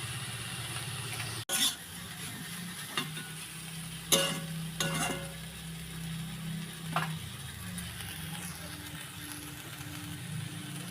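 Chicken chow mein ingredients stir-fry in a home kitchen pan with Maggi masala sprinkled over, giving a moderate, steady sizzle broken by a few sharp scrapes and knocks of stirring, with a low hum in the background.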